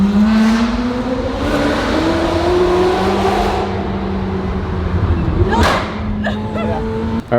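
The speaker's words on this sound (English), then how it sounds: "This is probably the most satisfying thing in the entire world, is going through a tunnel with a supercar." A Lamborghini Urus engine drones steadily as the car drives through a tunnel, a loud continuous hum with rising pitch and echoing reflections, briefly swelling near the end.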